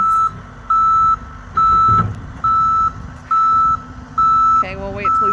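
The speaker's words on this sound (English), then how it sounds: "Horrible beeping noise." Loud, regular skid steer reversing beeps repeat about once a second over its rumbling engine, with a brief voice cutting in near the end.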